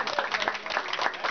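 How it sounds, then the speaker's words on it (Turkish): Strong applause and clapping from a crowd at a ring ceremony, a dense burst of hand claps filling the whole moment at steady loudness. "Evet, güçlü bir alkış."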